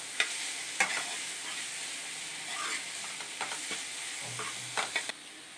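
Cinnamon sticks and cloves sautéing in a pan for chicken kulambu, a soft steady sizzle with occasional light scrapes and taps of a stirring spoon, close and fairly quiet.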